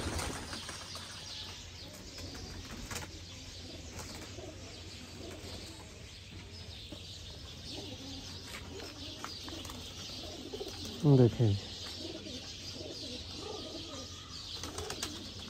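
Pigeons from home breeder pairs coo quietly and chirp in a loft, with a short, loud burst of wing flapping near the end and a single brief spoken word.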